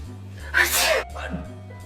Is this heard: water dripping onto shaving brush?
no